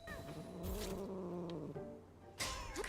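Toula, a cat in the video game Hades II, lets out a few close meows and purring chirps in short bursts, with soft game sounds around them.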